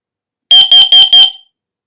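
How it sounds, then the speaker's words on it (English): A Careium i10 smoke detector sounds its test alarm: four loud, shrill electronic beeps in quick, even succession, close by and alone, with the last one trailing off into silence. "And that's triggered the alarm unit."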